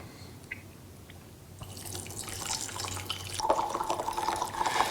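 Water is poured over 20-year-aged fermented tea leaves to rinse them, starting as faint drips and building into a steady, close trickle and splash that grows louder toward the end.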